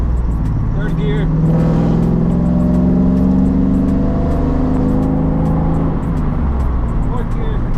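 Chevrolet Camaro fitted with a T56 manual transmission accelerating hard in third gear, the engine note loud and close from inside the car, rising steadily in pitch as revs climb with a slight dip near the end.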